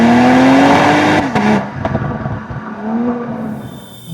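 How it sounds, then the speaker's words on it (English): Mercedes-AMG E53 convertible accelerating hard, engine note climbing then dropping sharply at a quick dual-clutch upshift with a crackle, before rising again under load, loud and close. "the whiplash kind of upshifts that the E53 gives is just addictive"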